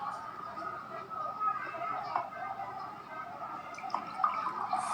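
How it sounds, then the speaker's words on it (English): Water poured from a jug into a glass during a life-skills lesson, a continuous trickling fill with small splashes and drips, fairly close, with faint background chatter. "We will not fill the water till the brim, otherwise the water will spill"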